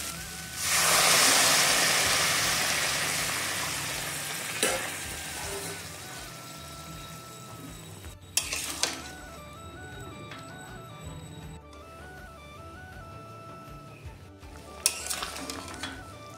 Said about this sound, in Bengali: এবার এর মধ্যে আমি গরম জল দিয়ে দেবো